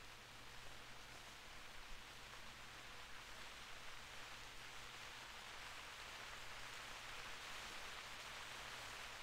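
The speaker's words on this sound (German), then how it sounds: "Fängt immer an zu regnen, ey." Steady rain in the hunting video game theHunter, a soft, even, continuous hiss with no distinct drops or pauses, faint and constant throughout with no voices.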